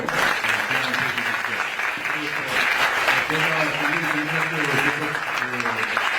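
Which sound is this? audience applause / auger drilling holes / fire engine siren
audience applause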